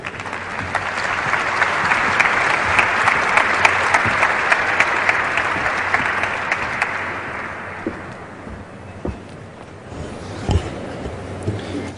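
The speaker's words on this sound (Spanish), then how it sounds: "Un aplauso para ellos." Audience in a conference plenary hall applauds the guests of an education debate panel, a full sustained round of clapping that swells early, then thins and tapers with scattered last claps.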